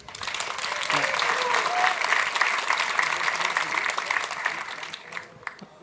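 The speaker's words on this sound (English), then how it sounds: "A round of applause for our speaker" A conference audience applauds a speaker, a dense, even wash of clapping that holds steady for several seconds and then thins out near the end.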